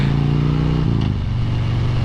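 A 2020 Harley-Davidson Road King Special motorcycle rumbles loudly and close while riding, its V-twin engine giving a deep, steady, lumpy throb that shifts pitch slightly midway.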